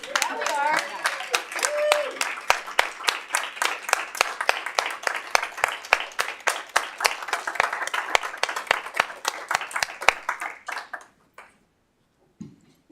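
Audience applause at a school board of trustees public meeting, a steady run of claps lasting about ten seconds and then dying away, with voices mixed in near the start.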